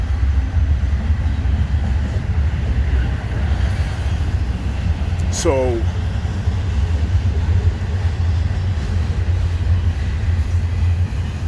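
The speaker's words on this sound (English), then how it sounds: "that's a train, a freight train." A steady, heavy low rumble of a freight train rolling past, continuous throughout, with a brief rising squeal partway through.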